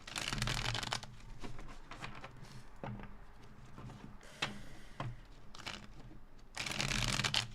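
Tarot cards being shuffled by hand: soft riffling and tapping bursts, loudest at the start and end, with lighter flicks in between, close and quiet without talk.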